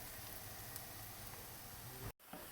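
A steady, soft sizzle of a honey and sesame pastry frying in a pan continues throughout, with a brief dropout near the end.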